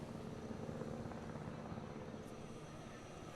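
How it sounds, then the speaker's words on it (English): Helicopter arriving in the dinosaur-park video game Jurassic World Evolution: a faint, steady rotor and engine drone that holds level throughout with no speech. "But a helicopter."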